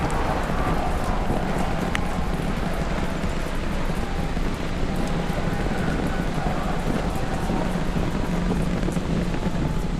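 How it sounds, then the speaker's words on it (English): A SpaceX Starship with its Super Heavy booster lifts off on 33 Raptor engines, a continuous heavy roar and deep rumble that holds steady and loud throughout. "30 seconds into flight, we are feeling the rumble."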